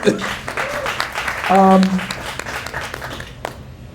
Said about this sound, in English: give Vince a round of applause